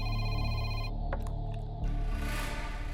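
A telephone ringing, a bright electronic ring tone that sounds for about a second, then cuts off before a few short blips and a fainter ringing tail.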